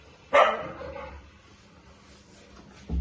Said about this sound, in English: Dog wants to come through the door.